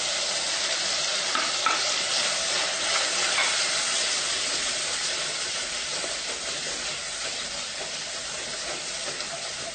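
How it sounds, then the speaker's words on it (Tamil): Spice powders of coriander, chili, curry masala, turmeric, cumin and fennel fry in hot oil for a chicken curry, giving a continuous, even sizzle and hiss with faint stirring scrapes, close up and without talking. "நம்ம ஆயிலில் தூளை போட்டோம்னா அது நல்ல ஒரு டார்க் கலர் கொடுக்கும்"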